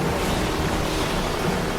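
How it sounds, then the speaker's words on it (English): Ocean waves crash continuously in a dense, roaring wash of surf with wind, loud and unbroken throughout, with no one speaking. "the crashing waves roll in like a living masterpiece painted by nature"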